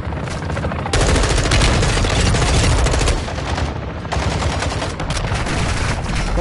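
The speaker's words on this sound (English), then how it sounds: "Someone else is shooting him." Sustained gunfire in the tactical shooter Rainbow Six Siege, dense bursts of automatic weapon fire crackling loudly for several seconds with brief gaps between volleys, close and dominant with no talk over it.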